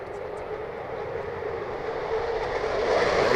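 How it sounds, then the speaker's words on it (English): A Eurofighter Typhoon jet moving at the Farnborough Airshow gives a broad, steady roar that builds gradually in loudness over a few seconds, with no talk over it. "Typhoon on the move."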